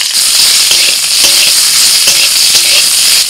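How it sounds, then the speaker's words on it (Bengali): Cauliflower florets fry in hot oil, most likely mustard oil, in a kadai, a loud, close, continuous hiss with a few soft knocks from stirring. "ওই তেলের মধ্যে এবার কপি ভেজে নেব"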